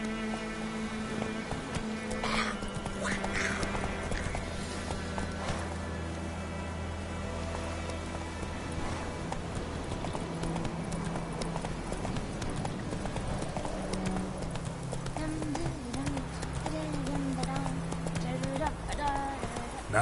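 Roach, Geralt's horse in The Witcher 3, gallops along a dark road with continuous rapid hoofbeats, steady and close, over game music and a rain-like hiss, with voices talking over it at times.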